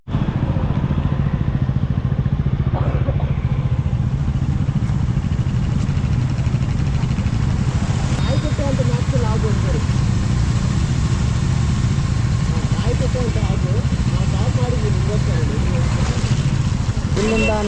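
A group of seven motorcycles idles together at a roadside stop, a steady loud engine rumble filling the whole stretch with faint voices underneath.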